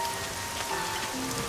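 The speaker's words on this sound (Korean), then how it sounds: "소나기가 내리고 나룻배가 떠내려 갑니다" Steady rain shower patters densely on a surface in a film scene with a drifting ferry boat, an even, hissing shower with scattered drips throughout.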